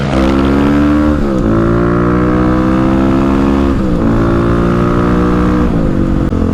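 Kawasaki KLX351 dirt bike being ridden, its engine loud and close, holding a steady drone, with quick revs and gear shifts rising in pitch several times.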